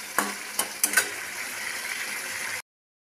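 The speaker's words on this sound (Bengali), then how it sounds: "আমার চিকেনটা কষানো হচ্ছে" Chicken sautés in a pan with a soft continuous sizzle, punctuated early by several sharp metallic scrapes and clinks of a utensil against the pan, close and without talk, ending abruptly.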